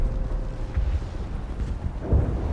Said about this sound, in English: So why are we still hearing explosions in the background?